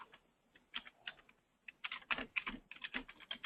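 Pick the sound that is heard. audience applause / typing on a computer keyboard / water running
typing on a computer keyboard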